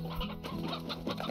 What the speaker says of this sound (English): Stony hen